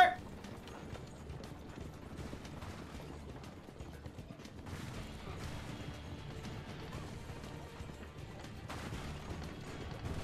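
Horses pull a carriage in Assassin's Creed II, clopping hooves and rattling wheels with clattering impacts, a steady mechanical rumble at moderate level.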